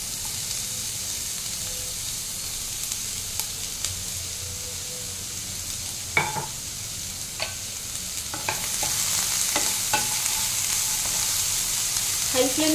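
Capsicum stir-frying on high flame for mixed fried rice, a steady sizzle with irregular spatula scrapes and clicks, swelling into a louder hiss toward the end.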